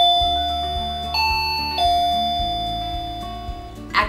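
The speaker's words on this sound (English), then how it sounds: "So all of these call chimes that I have here use radio frequency" A wireless radio-frequency call alert chime rings clearly and close by, playing a short sequence of bright tonal notes that step between pitches, with no voices.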